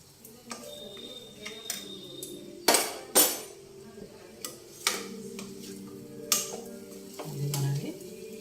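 Chilli powder and masala frying with mutton bones in a pan for sherwa, with a soft sizzle under scattered clinks and knocks of a utensil against the vessel.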